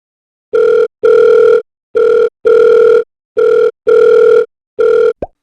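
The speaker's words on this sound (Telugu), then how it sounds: "ఫోన్ చేస్తానుండు" A phone call rings out loud and close as a repeating ringback tone, seven evenly spaced pulses in pairs of short and long beeps, then a brief click at the end.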